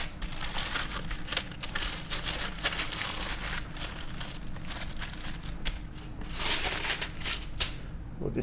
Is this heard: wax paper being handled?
yes